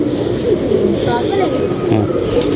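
Flock pigeons give low, rolling coos that continue steadily through the moment while a person talks nearby over them.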